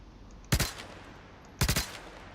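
Two short bursts of gunfire in Star Citizen 3.0, each a quick loud cluster of three or four rapid shots about a second apart, set against a quiet background.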